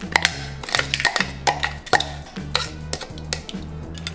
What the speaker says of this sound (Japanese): 残りのカニも同じ要領で潰していきます。